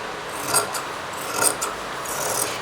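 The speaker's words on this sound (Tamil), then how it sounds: "இதை அப்படியே நம்ம கட் பண்ணிக்கலாம்" Scissors cutting through blouse fabric, three short rasping snips spaced roughly a second apart, close and dry over quiet room tone, with no talking.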